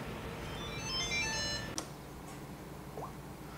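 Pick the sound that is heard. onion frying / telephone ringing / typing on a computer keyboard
telephone ringing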